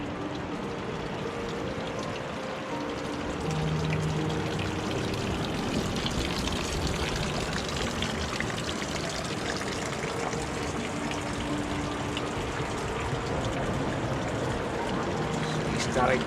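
Water trickles and splashes steadily like a small waterfall on a beach at Castlerock on an evening walk, a continuous close-up wash with faint voices in the background.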